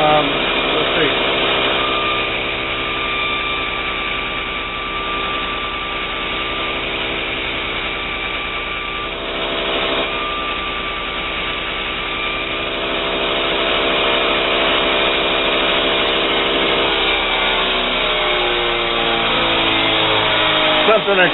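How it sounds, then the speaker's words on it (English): An electric grinder shapes the front edge of a steel knife blade with a continuous loud whine and steady harsh grinding that holds for the whole stretch, pitch sagging slightly as the work presses in, then winding down near the end. "I'm going to grind the front edge of the knife first."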